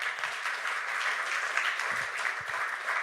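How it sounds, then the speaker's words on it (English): A room of people applauds after a conference presentation, a steady wash of clapping that holds throughout with a few faint voices underneath. "So if you could clap together."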